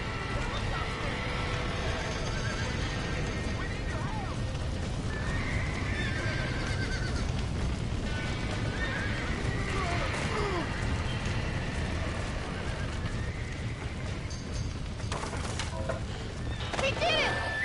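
Horses in the Red Dead Redemption video game whinny repeatedly over a steady rumble of hooves, with shouting voices and busy background noise throughout.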